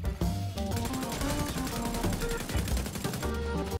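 Rapid gunfire in a shooter video game, with bursts of automatic-weapon shots in a dense, continuous barrage, loud and close, mixed with game music and effects and no talking.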